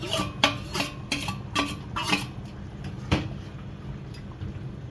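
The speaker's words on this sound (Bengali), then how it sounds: "এই পর্যায়ে আমি মাছগুলো, ভাজা যেই মাছগুলো সেগুলো আমি দিয়ে দেবো।" Pieces of fried fish are added to a simmering fish curry in a pot, with a few clinks and scrapes of a spoon against the metal near the start, then a quieter simmer.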